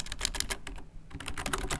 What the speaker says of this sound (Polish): Tutaj wpisuję nazwę spotkania